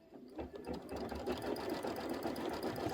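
A sewing machine quilts the outer border of a Kimberbell Sweet as Pie quilt, its fast needle chatter running as a steady, close, continuous hum with no voices.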